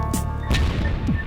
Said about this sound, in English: As the tunnel filled with smoke, there was a series of loud explosions.